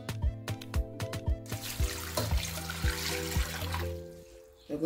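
A big cup of water poured for pineapple mint juice, a close trickling, splashing pour running steadily for a few seconds among light clinks and knocks in a kitchen.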